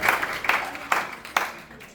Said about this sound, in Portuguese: salva de palmas aí